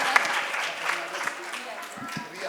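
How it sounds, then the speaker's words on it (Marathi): An audience applauds after a school play, a moderate patter of clapping that runs steadily for a couple of seconds. "एक परत एकदा स्पेशल टाळ्या वाजवा"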